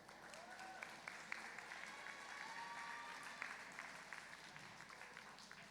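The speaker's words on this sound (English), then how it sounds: "Let's give them a round of applause." Dense, steady audience applause fills a 2022 FIRST Tech Challenge robotics qualifier in Herndon, greeting the finalist alliance. It is sustained clapping from a large crowd, with no one speaking over it.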